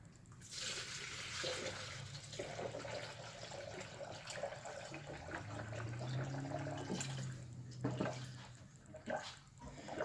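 Coolant mixed with distilled water pours into the cooling system of a 2001 Mercury Grand Marquis 4.6L V8, a steady gurgling stream that rises in pitch as it fills, with glugs and a few knocks near the end.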